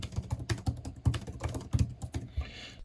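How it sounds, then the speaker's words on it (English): Typing on an iPad Pro Magic Keyboard, a rapid run of close, crisp key clicks and thumps in an uneven rhythm, heard alone without any talking. "Let me switch over to the Magic Keyboard,"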